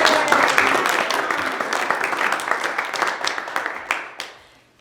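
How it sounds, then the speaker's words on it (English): Audience at an annual meeting clapping for the cleaning staff, a loud burst of many hands that stays dense, then thins and fades out over the last second. "let's give them a round of applause"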